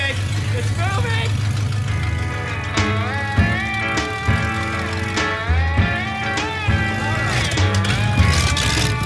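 An old restored car's engine running as it starts to roll, a steady mid-pitched drone that rises and falls with revs, close and loud, with people shouting excitedly over it.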